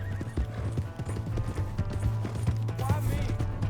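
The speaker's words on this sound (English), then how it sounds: "Hey, that's my horse!" Horse hooves clip-clop at a steady trot in the Red Dead Redemption 2 video game, with a whinny and game voices talking over the rhythm.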